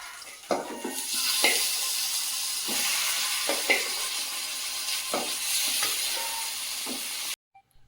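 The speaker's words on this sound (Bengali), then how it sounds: "মাছের মাথাগুলো ভেজে নেব" Hilsa fish heads frying in oil in a pan, giving a loud continuous close sizzle with repeated spatters and clatters of the spatula that stop abruptly at the end.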